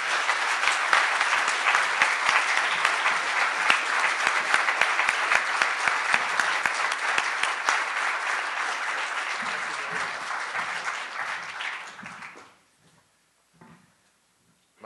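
An audience at a Chicago foreign-affairs gathering applauds to welcome the ambassador, with steady, dense clapping for about twelve seconds before it fades quickly into near silence.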